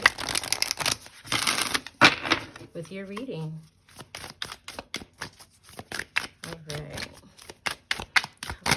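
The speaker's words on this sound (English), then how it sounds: "Let me give this one more shuffle," Rapid riffling bursts of a tarot-style reading deck being shuffled, loud at the start, then scattered crisp clicks and flicks under a voice speaking.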